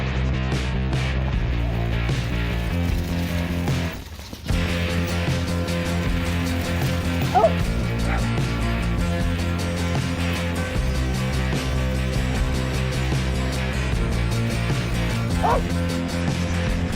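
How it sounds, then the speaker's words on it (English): Dogs bark repeatedly outdoors near a goat pasture, with yips and a brief whimper mixed into steady background noise. "Dogs."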